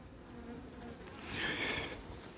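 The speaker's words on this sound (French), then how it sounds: "C'est plein d'abeilles." Dense buzzing of many bees crawling over the frames of a strong hive of twelve frames, a steady close hum that swells louder midway and stays constant throughout.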